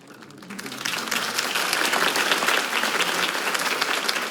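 Crowd applause swells after Harvey Dent's campaign speech in the Batman Telltale video game, starting thin and building within a second into steady, dense clapping that holds throughout.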